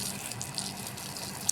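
Water runs steadily to wash down freshly laid cement in a garden planting area, a constant close hiss and splash with no talking.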